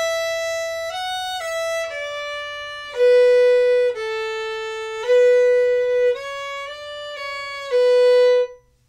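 A bowed string instrument plays the second phrase of a polka, a sequence of smooth sustained notes moving stepwise up and down at a moderate pace, clear and close with no talking.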